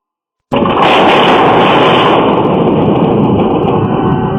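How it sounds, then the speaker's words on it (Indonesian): A sudden loud blast from an explosion on a house terrace at night, recorded by a CCTV camera, bursts in after a short silence, then a long roaring rumble that sustains without fading. "suara ledakan kencang di teras rumahnya saat malam hari hingga berhasil terekam kamera CCTV"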